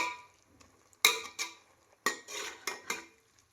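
A spoon scrapes and knocks against a pan while carrot halwa cooks in milk, in a few sharp metallic clinks and strokes with quiet pauses between them.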